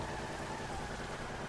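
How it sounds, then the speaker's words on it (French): Steady rain falling in the video game GTA, a constant broadband hiss with a faint engine-like hum underneath, continuous and even throughout with no voices. "Je suis désolé pour la pluie, mais ça on peut pas vraiment le prévoir sur GTA."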